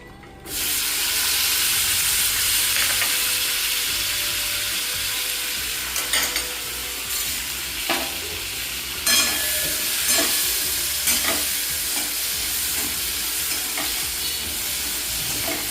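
Potatoes fry in butter with black cumin in a pan, giving a steady loud sizzle throughout, broken by several sharper scraping stirs of a spatula against the pan.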